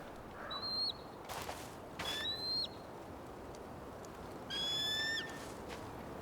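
An eagle's high, thin cry in the video game Tell Me Why rings out in short repeated bursts over an outdoor ambience, fairly distant and alone.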